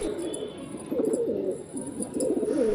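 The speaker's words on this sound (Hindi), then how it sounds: "ये नवा पेयर है दोस्तों कलसरे कबूतर" Kalsira pigeons cooing steadily in a loft, soft throaty repeated coos close by, continuous over a faint background hiss.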